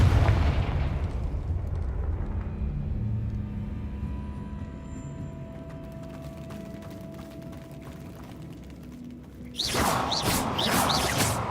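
A Confringo blasting spell goes off in Hogwarts Legacy, with a loud broadband boom at the start and a second burst near the end, over a steady hum of game ambience.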